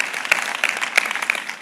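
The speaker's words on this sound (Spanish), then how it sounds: "Un aplauso para él." A church congregation at a sermon breaks into brief applause, a short burst of dense clapping with a few louder individual claps standing out.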